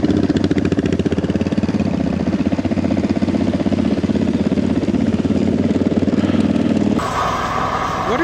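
A mower engine runs steadily close by, a loud continuous mechanical drone with a fast knocking pulse, changing pitch near the end.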